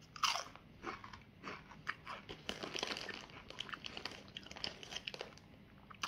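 Doritos chips, a tortilla-chip style Diablo flavor, crunched and chewed up close, with repeated crisp bites and crackling mastication across the clip and a bag crinkling faintly, no talking.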